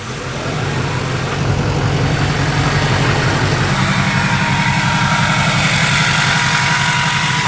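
A 2015 truck's engine fires up cold and settles into a steady, loud, close idle with a low rumbling pulse throughout.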